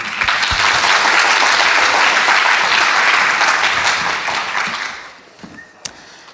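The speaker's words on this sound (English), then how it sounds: "Let's give a big applause to welcome Tracy." A conference audience at PyCon Taiwan applauds loudly to welcome a keynote speaker. The dense, full clapping holds steady for several seconds, then thins and fades, leaving a few scattered claps and a sharp knock.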